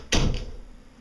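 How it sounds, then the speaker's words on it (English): A bedroom door shuts once with a sharp, close thud, followed by a short fading rattle in a quiet room. "I'm going to shut my door"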